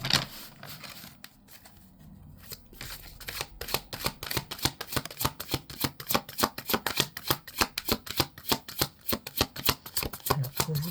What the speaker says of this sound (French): on va commencer le tirage avec le tarot des anges.